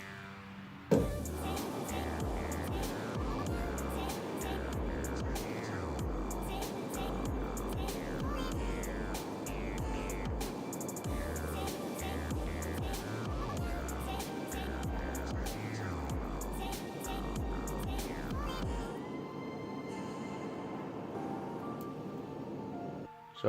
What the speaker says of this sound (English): I will be using a gas torch to solder it together.